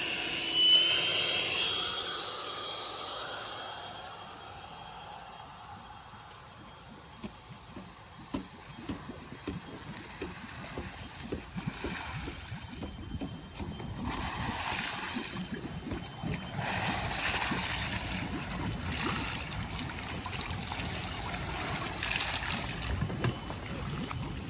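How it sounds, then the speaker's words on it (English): A loud, steady roar of air forced through the standpipe of a swimming pool filter to clear the return lines. The broadband rush continues for the whole stretch with no voices over it. "this one we're gonna blow through the standpipe on the filter"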